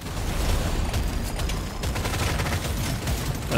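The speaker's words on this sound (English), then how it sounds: "these turrets are doing work" The engineer's turrets in Deep Rock Galactic Survivor fire continuously, a dense, steady crackle of rapid shots that stays loud throughout amid game noise.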